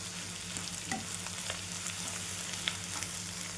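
Bitter gourd stir-fry with amchur powder and coriander being stirred in a pan, a soft steady sizzle broken by a few light scrapes, close and moderately quiet.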